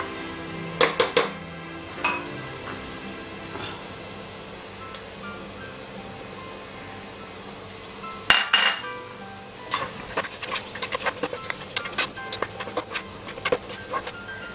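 Pasta with masala cooking in a pan, a low steady sizzle broken by clinks and scrapes of a utensil against the pan, the clinks growing busy toward the end.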